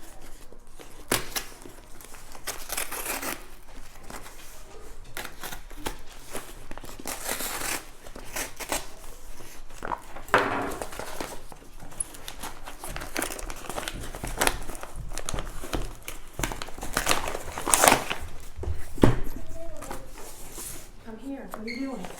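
A taped parcel holding a Haynes manual is slit open with a knife, giving repeated scraping, tearing and crinkling of tape and packaging close by, in bursts throughout, with someone talking over it.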